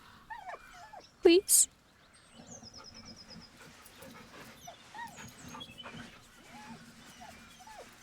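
A dog whimpers and whines in Baldur's Gate 3, with short soft whining sounds scattered among quiet game ambience and a voice speaking over it.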